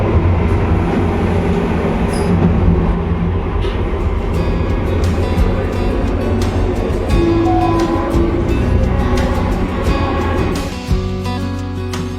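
Inside a moving passenger train, a continuous loud rumble and rolling rail noise run throughout, with faint rhythmic clicks of wheels over track joints and no speech.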